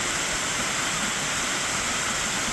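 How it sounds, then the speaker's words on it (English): Water rushes through a narrow rocky channel on a mountain trail in Odaesan National Park, South Korea, a constant, loud, hissing roar close by with no voices. "A lot of moving water."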